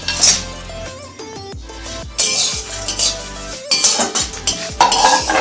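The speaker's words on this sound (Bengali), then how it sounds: "মশলাগুলো ভেজে নেব, সুন্দর একটা গন্ধ বেরিয়ে গেলে আমি নামিয়ে নেব।" Whole spices dry-roasting in a pan are stirred with a metal spoon, giving repeated loud scrapes and clinks against the pan in bursts over a light sizzle, with no voices.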